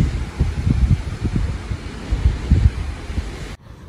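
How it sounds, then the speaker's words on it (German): Strong outdoor wind buffets the microphone in heavy, uneven low gusts and rumbles for several seconds before cutting off abruptly, with no speech. "aber es ist schon sehr windig"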